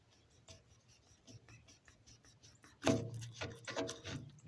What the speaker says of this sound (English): take a kiwi, cut off the ends